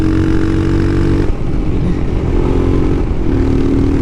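A Royal Enfield Himalayan motorcycle with a Lextek aftermarket exhaust rides along a road, its engine giving a loud, throaty note that drops briefly then climbs again as the rider works the throttle, close and dominant.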